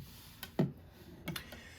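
Plastic parts of a Star Wars Mission Fleet Gauntlet toy click softly as they move, with a couple of separate faint clicks in an otherwise quiet room.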